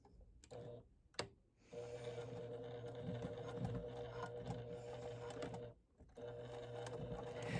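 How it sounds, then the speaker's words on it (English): A sewing machine stitches batik canvas and cotton at a 1/8-inch seam with backstitching, running in a steady, close whirring hum with two brief pauses where the motor stops and restarts. "stitch this down using 1/8 of an inch all the way around"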